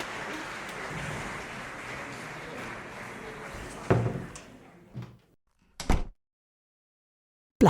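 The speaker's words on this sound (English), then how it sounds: "Guiding each other back to their dressing rooms, closing the doors." Dancers close their dressing room doors after leaving a darkened stage: a low ambient rumble, then a sharp door thud, a softer knock, a firm closing clunk, silence, and one last abrupt thump.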